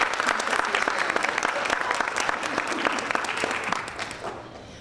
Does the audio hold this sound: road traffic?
no